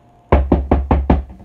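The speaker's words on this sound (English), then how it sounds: "Knock on the wood." Five evenly spaced knocks on wood, sharp, close and loud, each with a short hollow decay, come after a brief quiet moment, with no talking.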